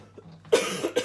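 A person coughs indoors, close to the mic: a quiet throat sound, then a sharp cough burst followed by two smaller coughs.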